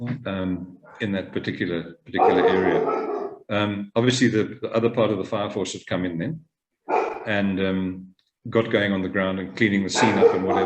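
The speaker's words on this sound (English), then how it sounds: "I apologize for my dog behind" A dog barks now and then in the background behind someone speaking steadily in a room, the barking faint and largely buried beneath his continuous talk.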